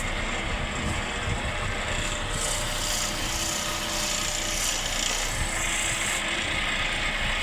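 A blade being sharpened, likely a Manito blade, gives a faint continuous scraping hiss against a steady noisy background, with no clear strokes standing out and no talk.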